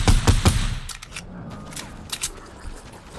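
Video game gunfire rattles in a quick burst of sharp, loud shots at the start, followed by scattered fainter pops and clicks.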